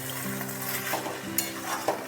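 Chicken polao being stirred in a pan with jaggery powder over low flame, a steady sizzle and frying hiss with soft scraping stir strokes and a couple of light clinks, close by with no talk.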